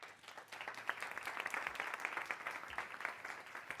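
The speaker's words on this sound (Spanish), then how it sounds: "Un aplauso, por favor, Andresa." Steady applause from a crowd fills the room for several seconds, dense clapping at moderate distance.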